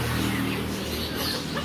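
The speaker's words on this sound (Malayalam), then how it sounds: "ഇത് കുറച്ച് കോഴികൾ അങ്ങനെയൊക്കെ." Chickens cluck softly at a pet shop that also keeps pigeons. The low, scattered clucks sit under faint background noise.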